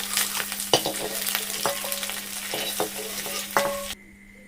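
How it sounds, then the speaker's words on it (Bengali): An egg sizzles steadily as it fries lightly in a hot pan, with a spatula scraping and stirring in irregular strokes before the sound cuts off abruptly near the end. "ডিমটাকে হালকা করে ভেজে নিয়েছি, এবার তুলে নেব"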